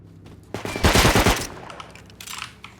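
A short, loud burst of rapid gunshots in the survival game Rust, a tight cluster of cracks lasting under a second, followed by quieter background noise.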